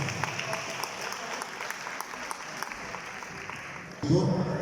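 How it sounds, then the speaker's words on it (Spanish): Audience at a diocesan teachers' gathering applauding the archbishop, moderate clapping with sharp individual claps throughout, then a louder burst of voices and noise near the end. "Le brindamos otro enorme aplauso a nuestro señor arzobispo, el señor Carlos Carrero."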